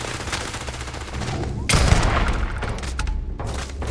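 Gunfire in the Starfield space game, a dense run of rapid sci-fi weapon shots with sharp cracks and a heavy blast near the middle, continuing loud and close with a few voices underneath.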